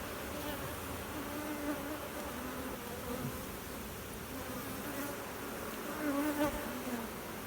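Honey bees buzz densely around an open hive frame, a steady close swarm drone with individual bees passing near, no speech.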